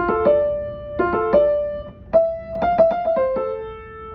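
A piano plays a short melody from The Legend of Zelda: Ocarina of Time, distinct notes and chords struck one after another with some sustained tones, loud and clear.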